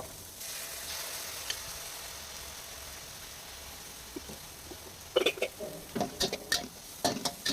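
Garlic chive leaves stir-fried in a wok, seasoned with fish sauce: a soft steady sizzle that gives way to bursts of clattering and scraping as the leaves are tossed, fairly quiet.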